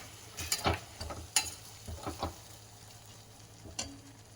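Fenugreek leaves being sautéed in a pan for a menthe bath, with a few soft scraping stirs and a faint low sizzle spread across a quiet stretch.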